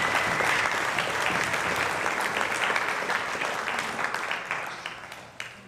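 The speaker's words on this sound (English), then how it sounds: "one more round of applause for the team and for all of tonight's inductees" A large crowd applauds steadily at an athletics hall of fame induction ceremony, dense clapping that holds strong and then gradually fades out toward the end.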